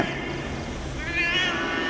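Cat meow used as a sound effect for a ghost cat in a Tamil story, one drawn-out, wavering meow rising near the end over a steady background wash.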